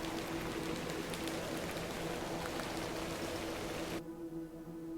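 Steady rain pours in The Excavation of Hob's Barrow, a dense even hiss throughout that cuts off sharply near the end, leaving a quieter hum with low tonal drones.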